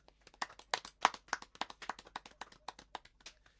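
Rhythmic digital clapping rings out during a Zoom church fellowship meeting: a steady run of sharp, close claps, about two or three per second, with no voices.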